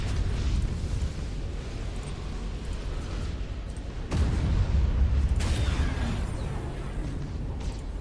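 A battleship explodes in the space strategy game Battlefleet Gothic Armada, a continuous low rumbling roar that swells into a heavier boom midway and then rolls on under game noise.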